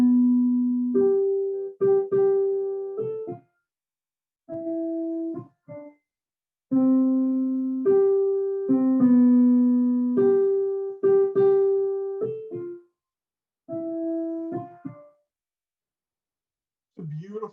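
An instrument plays the alto line of a choral piece in short phrases of sustained, clear pitched notes, separated by brief silences, heard alone without any voices.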